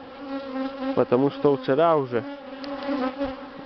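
An angry swarm of honey bees drones steadily and close by, the buzz filling the whole stretch while someone talks over it in the middle.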